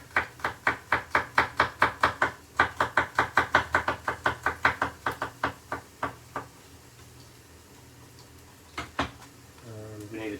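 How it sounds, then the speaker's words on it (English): Garlic being finely chopped with a knife on a board, a fast steady run of about twenty close, crisp knocks that slows and stops, followed by a few scattered taps and faint kitchen noise. "Take the skin off of this garlic. Finely chop this"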